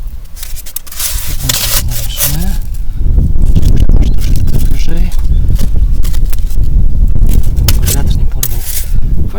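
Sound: strong wind blowing outdoors

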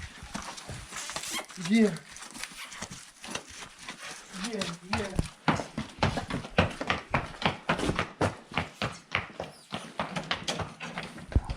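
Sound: mare's hooves clip-clopping as she is led

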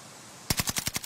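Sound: gunfire in a video game

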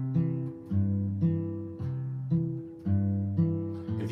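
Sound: acoustic guitar fingerpicking pattern played up to tempo

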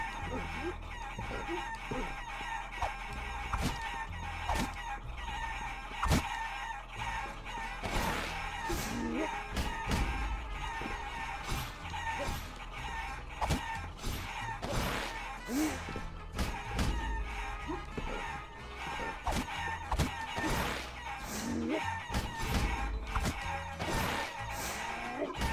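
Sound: chickens clucking and crowing in the video game Guacamelee

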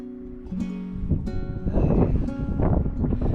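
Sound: strengthening wind

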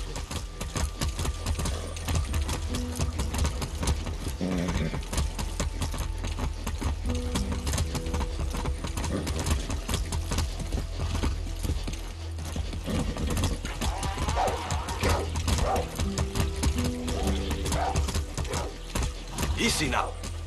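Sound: horse galloping in video game

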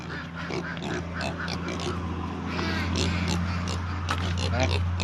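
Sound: ducks quacking

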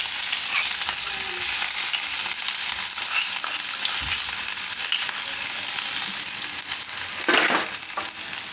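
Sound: mustard seeds, cumin, garlic and chilies frying in oil

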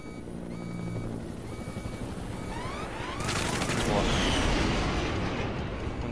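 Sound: helicopter in the video game Metal Gear Solid V

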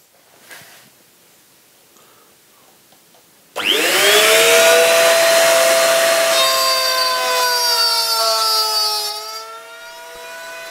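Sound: palm router cutting 12 mm plywood

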